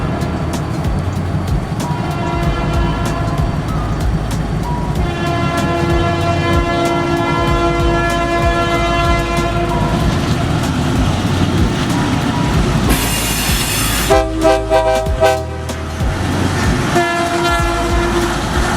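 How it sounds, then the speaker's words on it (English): A pair of Norfolk Southern diesel locomotives, led by SD40-2 number 3379, roll past on the NS mainline near a railway museum, pulling a manifest train with loud continuous rumble and wheel clatter, plus a long horn blast partway through. "a pair of Norfolk Southern diesels on the NS mainline outside the museum, passing the 8202 with a manifest"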